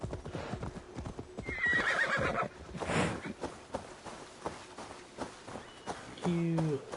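A horse in Assassin's Creed Dawn of Ragnarok clip-clops at a run with steady hoofbeats, then gives a clear neigh near the end, while someone talks over it.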